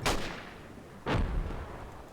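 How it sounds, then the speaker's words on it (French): Two heavy artillery blasts from the video game Project Reality, each a sharp loud boom that rolls off into a rumbling tail, spaced about a second apart with no talk. "il y avait des grosses explosions maintenant"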